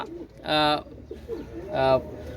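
A fancy breed pigeon gives two close, loud, rolling coos about a second apart, each a short throaty burst, with quieter murmurs between them.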